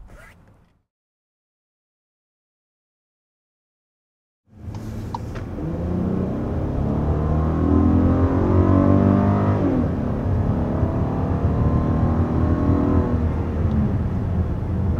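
A 2021 Volkswagen Atlas Cross Sport pulls away and accelerates toward 55 mph, engine note rising under a steady road rumble after a brief quiet gap, heard from inside the cabin.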